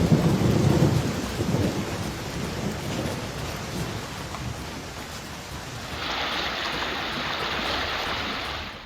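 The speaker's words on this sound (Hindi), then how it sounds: "असम से लेकर मणिपुर और दूसरे तमाम इलाकों में भारी बारिश हो रही है" Heavy monsoon rain pours down in northeast India, from Assam to Manipur, with deep thunder rumbling loudly at first and then a constant dense hiss of rainfall, no voices.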